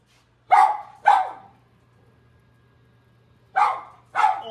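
An old dog barks four times, two sharp barks, a pause, then two more, loud and close in a quiet kitchen with a faint hum underneath.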